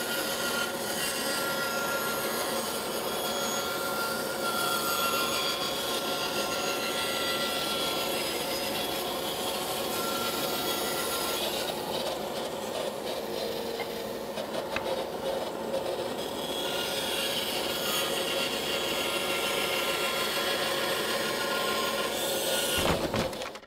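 Three-quarter-inch wooden leaf supports for a recycled trestle table are cut in a woodshop, giving a steady, continuous rasping saw noise that runs unbroken for over twenty seconds at a fairly even level.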